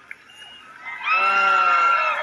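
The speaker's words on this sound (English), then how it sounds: "This is some crowd." A large crowd cheers at a political rally in Jacksonville, Florida, starting with a low murmur and then rising into loud, sustained shouting and cheering that holds at full volume.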